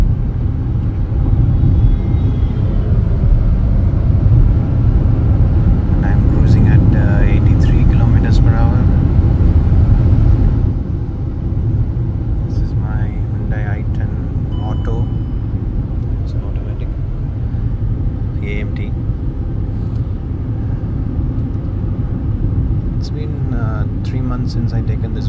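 A 2024 Hyundai Grand i10 Nios cruises on an expressway with the AC on, a steady low cabin road and engine rumble droning throughout, softening slightly midway, with someone talking over it.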